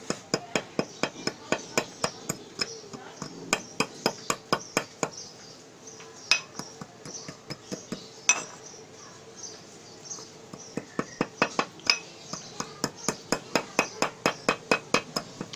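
A small stone pestle pounds three ingredients for hartal warqi kushta in a steady stream of sharp, close knocks, with a few brief pauses between runs of strikes.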